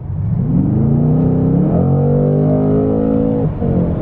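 Engine of an S model coupe in comfort mode with its exhaust valves open, a close, loud rumble that climbs in pitch as it revs, then holds a steady tone and eases off at the end.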